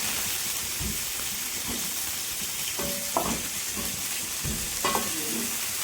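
Brinjal (eggplant) pieces frying in hot oil, a continuous soft sizzle with occasional stirring clicks and scrapes, close and fairly quiet throughout.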